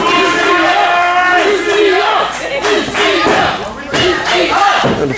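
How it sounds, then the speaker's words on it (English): Loud, continuous roar of a wrestling crowd cheering and yelling in an indoor arena, sustained for several seconds with brief dips and swells, no talk over it. "And the fans cheering for Bucio as he heads to the top rope"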